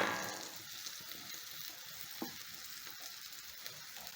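Fish pieces fry in hot oil, producing a dense, bright hiss that holds steady close by, with a few small pops and bubbling crackles and no voices.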